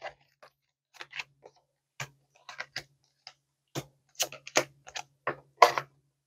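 Quick papery riffles and soft snaps come in uneven bursts, oracle cards being shuffled close by with short pauses between passes; no one speaks.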